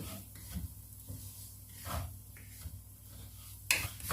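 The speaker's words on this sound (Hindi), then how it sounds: "सूजी को भूनते हुए 5 मिनट हो गए हैं" Semolina roasting in ghee in a pan over medium heat is stirred with soft, intermittent scraping strokes, faint and close, with one sharper clink near the end.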